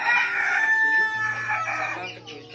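Ayam Cemani chicken crowing in one drawn-out, loud call close by, with a second bird's crow or clucking overlapping toward the end.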